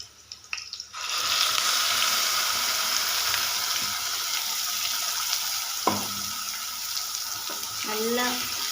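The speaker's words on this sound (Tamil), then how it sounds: "நல்லா ஒரு வதங்கட்டும் எண்ணெயோடு சேர்த்து" Ground paste and curry leaves frying in hot oil for a fish curry, a loud steady sizzle starting after a second and continuing throughout, with occasional stirring scrapes.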